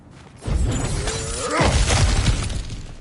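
Objects smashed apart in a video game, opening with a loud shattering crash and breaking debris, followed by a whoosh and a second heavy crash, close and forceful with no talk.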